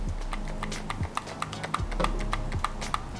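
Sharp, crisp button clicks from a BinBok transparent Joy-Con for the Nintendo Switch, pressed in a quick irregular series, close up and fairly loud, with no talking.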